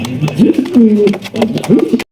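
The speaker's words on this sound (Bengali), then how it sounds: "এটাও কিন্তু আপনার ব্লু ব্লু বার্লেস লাউরি কবুতর দেখতে পাচ্ছেন" Blue barless Lahori fancy pigeons coo close by in repeated throaty, rolling phrases with short pauses between calls, clear and fairly loud, alone without talk.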